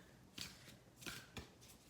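An oracle card deck being shuffled, three quick papery riffles close to the microphone, quiet and without talk.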